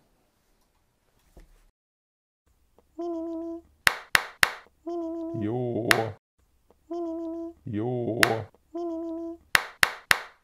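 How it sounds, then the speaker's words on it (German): Hand claps ring out in a German workshop setting, a few sharp separate claps set between stretches of tonal sound with harmonic lines, loud and close, while a voice briefly speaks. "Klatschen."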